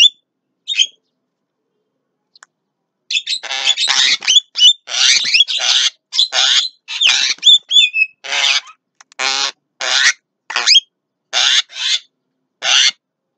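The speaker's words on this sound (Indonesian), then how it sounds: "Burung jalak kebo." Javan mynas, or jalak kebo, calling in the midday heat: a run of loud, harsh squawks and whistled notes in close, rhythmic bursts after a quiet start, a few sharp rising whistles mixed among the rasping cries.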